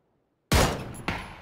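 Two gunshots ring out in PLAYERUNKNOWN'S BATTLEGROUNDS, a loud sharp crack after silence followed half a second later by a second slightly weaker report, each with a short decaying tail.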